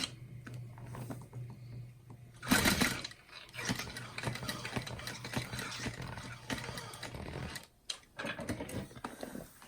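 A sewing machine stitches through vinyl while a handbag is made, running in steady mechanical bursts with a loud, dense stretch partway through and a short pause near the end.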